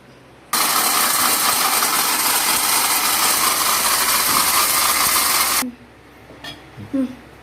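Ragi pieces are ground into powder in a kitchen grinder, which roars loudly and steadily for about five seconds, then cuts off, leaving a few faint knocks and handling sounds.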